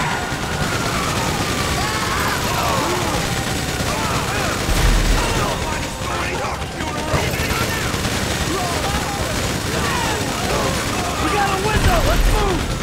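Dense, continuous bursts of GTA 5 gunfire on PS5 with rattling mechanical clatter, loud and sustained throughout, with police voices mixed underneath.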